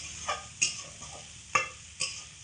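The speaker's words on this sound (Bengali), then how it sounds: "বিনস দিয়ে হালকা করে একটু নাড়াচাড়া করে নেব" Chopped beans being stirred in a pan for a quick Maggi noodle recipe, with a few light scraping clinks of the spoon against the pan and a faint sizzle underneath.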